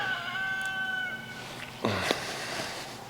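A rooster crows somewhere nearby in a drawn-out, strained call, followed by a couple of sharp knocks against steady background noise.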